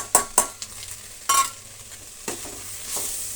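Garlic and onion frying in a pan with chili powder, stirred by hand: close sizzling under a few sharp scraping strokes of a spoon against the pan, then a steady softer hiss, with no talking.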